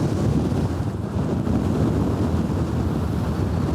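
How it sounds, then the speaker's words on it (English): Cold wind roars across a Scottish Munro hilltop in the Glen Lyon area, buffeting the microphone with a continuous, loud, rumbling rush and no voices. "But a very, very, very cold wind."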